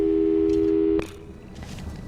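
Telephone busy signal from the video game Portal 2: a steady, loud electronic tone holds for about a second, then cuts off abruptly, leaving a faint room hiss.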